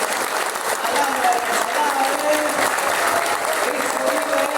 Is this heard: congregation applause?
yes